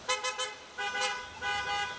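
Three quick horn toots followed by two longer sustained honks, moderately loud with no talking.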